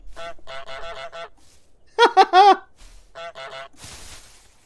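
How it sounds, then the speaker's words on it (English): Honks from a cartoon goose in a stealth video game come in bursts: a rapid run of four or five nasal honks, then three louder drawn-out ones, then another short cluster, with a soft swish at the end. "Press space to honk."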